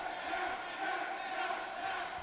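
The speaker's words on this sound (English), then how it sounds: "Listening to this crowd screaming" A wrestling audience roars and screams at a submission attempt on the television champion, a brief and steady burst of loud massed cheering and yelling.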